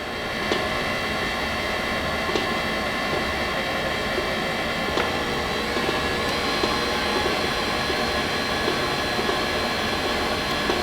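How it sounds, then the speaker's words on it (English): Electric mixer running steadily at low speed through banana bread batter with egg and whole milk, a continuous whirring drone with no talk. "We'll turn our mixer back down."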